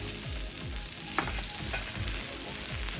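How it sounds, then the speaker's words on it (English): Butter sizzles and fries steadily on a hot discada, with a dense continuous crackle and occasional stirring scrapes, close and fairly loud with no voices. "we've got the disc heating up. 3 pats of butter"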